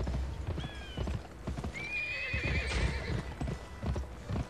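Horse hooves clip-clop steadily through the game Gun while a horse whinnies twice, a short neigh early and a longer wavering one in the middle, over constant game ambience.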